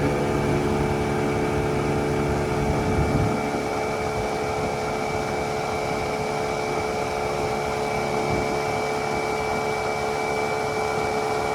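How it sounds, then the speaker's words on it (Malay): A steady, droning fishing boat engine hums continuously at close range on the Batang Kayan river in Lundu, Sarawak, with a low chugging rumble and no voices. "Enjin nelayan Kampung Siling"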